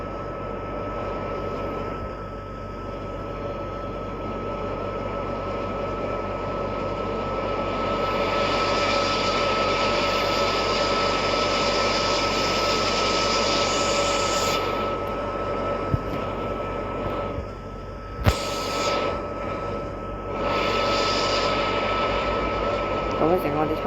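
Aircraft engine drone from a plane flying in the Roblox flight simulator game, a steady loud hum that continues throughout with a few brief clicks and bumps near the end.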